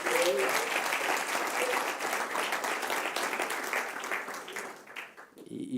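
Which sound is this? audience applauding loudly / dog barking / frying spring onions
audience applauding loudly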